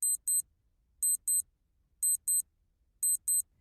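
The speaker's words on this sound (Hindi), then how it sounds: "स्लीपिंग बैग के नीचे एक अलार्म क्लॉक भी रखी हुई थी, और जिसका अलार्म बजने वाला है ठीक 4 मिनट में।" An alarm clock set under a sleeping bag beeps in pairs of short high electronic tones, repeating about once a second, clear and alone.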